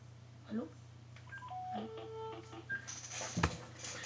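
A telephone keypad beeps out a quick series of short dialing tones at different pitches, followed by a sharper clatter, all over a low steady electrical hum.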